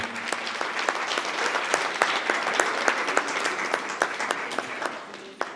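Applause at a women's empowerment seminar in Dhar, a steady round of clapping from a moderately sized audience with distinct individual claps standing out, fairly even throughout.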